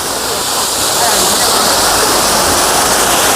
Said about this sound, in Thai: ด้านนี้ก็เป็นน้ำตกครับ